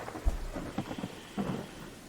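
Thunder from a Terraria thunderstorm rumbles low and continuous, with several heavier rolling booms rising over steady rain-like noise and no one speaking.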